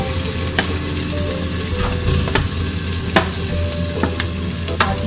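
Masala for a ridge gourd curry frying in oil, with a continuous loud sizzle and sharp scraping stirs at irregular intervals, no voices.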